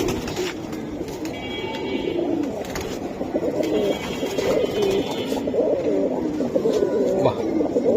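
Domestic pigeons coo repeatedly in soft, rolling calls close by, with other bird chatter and market bustle underneath.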